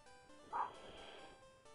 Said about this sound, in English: you might be able to hear my dogs upstairs